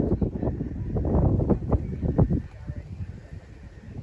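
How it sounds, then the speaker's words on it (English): Wind buffets the microphone outdoors at a lake on a windy winter day, a close, low rumbling roar that gusts unevenly before easing off, with no clear voices. "I don't know how much of my video you're going to be able to hear because it was quite windy"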